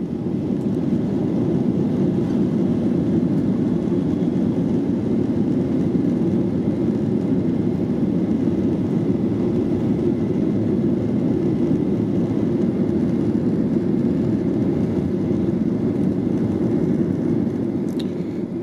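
Steady loud roar of an airliner cabin during takeoff from Düsseldorf on a flight to Antalya, a continuous engine rumble with rushing air that holds level throughout with no voices.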